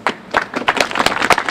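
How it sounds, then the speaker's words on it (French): A crowd claps in applause for an association fighting the demolition of Saint Joseph chapel in Le Mans, a dense burst of hand claps lasting under two seconds with no talk over it. "on peut, je pense, les applaudir."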